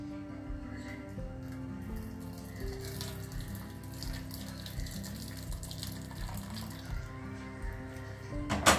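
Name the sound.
pouring off water from cooked toor dal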